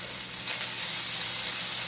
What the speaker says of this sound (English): So we've cut the bacon up in small squares, and I'm just going to put that right in the frying pan.